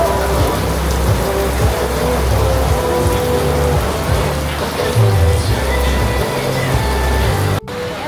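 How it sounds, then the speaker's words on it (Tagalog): Heavy rain pours down in Taiwan, a loud, unbroken roar of drops on surfaces with low rumbling underneath, cutting off abruptly near the end before resuming. "Grabe, lakas ng ulan."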